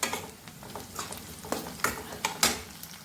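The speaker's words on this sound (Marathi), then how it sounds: "हे सगळं साहित्य आपल्याला 1-2 मिनिटं परतून घ्यायचं आहे" Chopped green chilies and garlic sautéing in a pan for a Maharashtrian-style tempered vermicelli, with a steady near sizzle broken by several sharp scraping stirs of a spoon against the pan.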